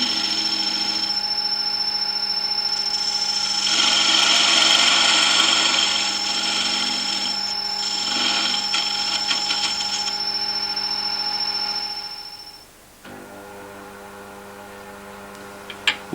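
A wood lathe runs steadily while a tool cuts a recess at the end of a spigot before threading, giving a constant hum with scraping bursts, then the machine winds down near the end and a quieter hum follows.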